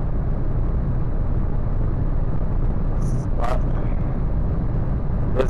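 A tuned car with the Top Car Automecânica STG 2 setup revs hard under acceleration in fourth gear toward 6,000 rpm, a loud steady engine roar filling the clip with a brief high whine and click near the end.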